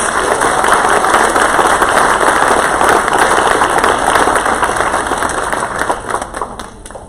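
Sustained audience applause fills a school board meeting hall after an employee award, dense and steady throughout before tapering slightly at the end.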